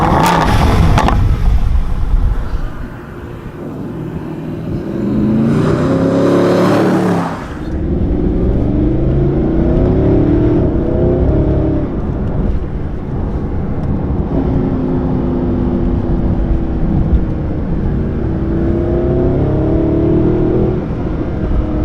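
A Mercedes SLS AMG's engine growls loudly as the car is driven, with throttle blips and revving swells over a steady, rumbling drone.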